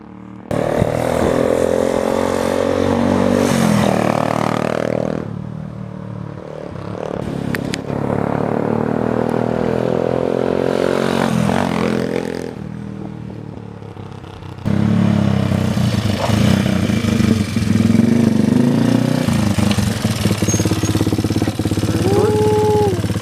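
A Yamaha 225DX engine under restoration runs in neutral, a loud, steady idle rumble that drops and rises in level a few times, with some brief background voices.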